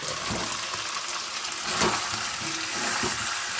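Chicken curry made with free-range country chicken and pre-fried potatoes sizzles in oil in a pan, a quiet, steady frying hiss with a few soft stirring knocks.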